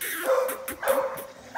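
A four-month-old chocolate-colored male puppy whines in thin, high, drawn-out tones broken by several short yips and barks, close to the microphone, in an indoor setting.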